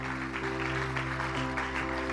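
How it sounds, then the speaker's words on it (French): An audience at a church gathering applauds in a steady, dense wash of clapping, moderately distant, with a faint tonal hum beneath and no talking. "On peut applaudir ce que Dieu fait, les amis."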